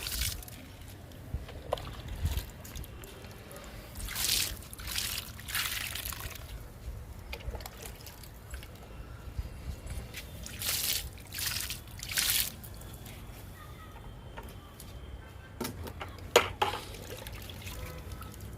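Liquid fertilizer is poured onto fruit plants, including pomegranate, in a garden. Quiet trickling and splashing comes in intermittent bursts over faint background noise.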